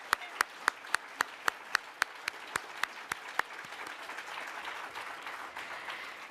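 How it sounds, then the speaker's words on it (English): At a book awards ceremony, a single pair of hands claps in slow, evenly spaced strikes, close and distinct, before softer scattered applause from the audience takes over and fades. "let's give a round of applause"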